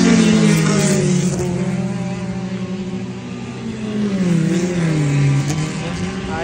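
Motocross motorcycle engines at a racetrack in Cascavel, Paraná, during opening practice of the state championship, revving in steady rising and falling tones, fairly loud and continuous, with no talk over them.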